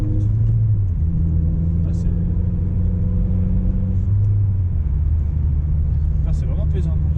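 Peugeot 406 Coupé Pininfarina engine heard from inside while driving: a steady low droning hum with pitch shifts as it pulls through the gears, under talk from people in the car.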